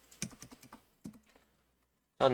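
Quiet clicks of a computer keyboard while working in CAD software, a quick run of keystrokes followed by a lone key press, then a louder burst of clattering keys after a short pause.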